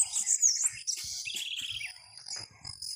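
A small bird perched on a wire at a farm sings a quick series of bright chirps and trills, close and clear over a quiet rural background with a few soft knocks.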